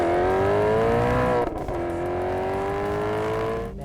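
A 2009 Maserati GT-S, one of 300 made, accelerating hard with its engine revving loud and close, climbing through the revs, a brief dip at a quick gear shift, then pulling strongly again.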